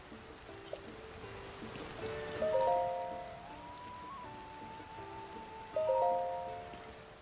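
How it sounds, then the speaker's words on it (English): Steady rain patters across the ground in Zelda: Tears of the Kingdom, a soft continuous hiss with scattered droplets under a gentle melodic music cue, with no talking. "Let's wait for the rain to pass."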